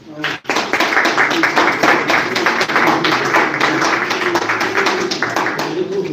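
Sustained audience applause at a press conference for a concert show, a dense wash of many hands clapping that starts abruptly after a brief pause and carries on steadily throughout.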